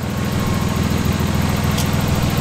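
An RB20 car engine idles steadily and up close, a continuous low throbbing rumble with an even, rapid pulse and no voices.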